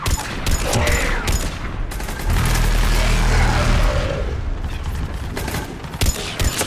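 Rapid bursts of gunfire from a Mass Effect 3 firefight in the Thessia mission, loud and close, with rattling automatic fire, sharp single shots and a rumbling stretch midway.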